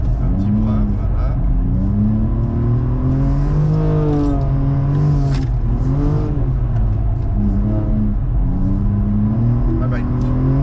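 A 750 hp BMW M2 drifting on the Lohéac track, its engine loud and close throughout, revving hard with pitch repeatedly climbing and falling as the throttle is worked.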